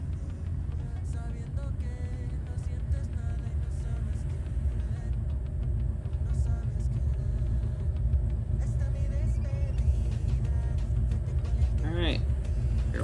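A vehicle in the video game Space Engineers gives off a steady low engine rumble that carries on evenly throughout, with faint mechanical tones above it.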